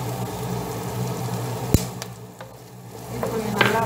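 Two green chilies fry in oil in a pan for tomato rice, giving a soft, steady sizzle close by. A utensil stirs them with a sharp scrape and a few lighter knocks, and no one speaks.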